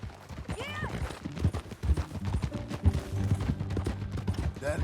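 Horse hooves clip-clopping at a riding pace in the Western game Red Dead Redemption II, steady rhythmic thuds mixed with game music and scattered gunfire-like pops.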